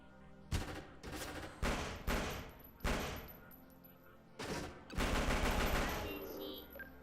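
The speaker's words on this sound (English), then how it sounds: "me bullets are hitting something" Video game gunfire with bullets striking something, loud sharp bursts of automatic fire in repeated volleys separated by short pauses, ending in a longer sustained burst.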